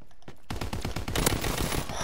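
Sustained light machine gun fire in a team deathmatch video game, a loud rapid stream of shots after a few separate opening rounds, continuing without a break to the end.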